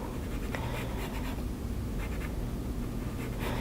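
Graphite drawing pencil scratches across paper in quick, close strokes, a dry rasping sound with brief pauses between marks.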